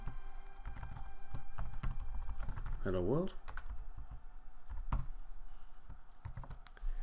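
Clicky keystrokes on a computer keyboard as a line of Ruby code is typed, with someone speaking briefly over the tapping throughout.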